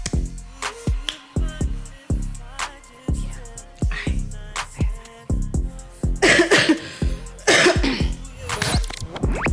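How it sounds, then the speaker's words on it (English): A man coughs repeatedly at close range on a talk-show recording, with a run of sharp, separate coughs that grow rougher and more crowded toward the end. "I coughed right there"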